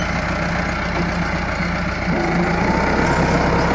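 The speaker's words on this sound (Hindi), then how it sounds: "जैसे ही थोड़ा सा लीवर डाउन करते हैं दोस्तों तो ट्रैक्टर जो है वो पिछले व्हील जो हैं इस ट्रैक्टर के स्लिप करना शुरू कर जाते हैं" A Massey Ferguson 385 tractor pulls a 13-tine plough through a field, its diesel engine a loud, steady low drone that holds throughout and swells slightly near the end, with no voices.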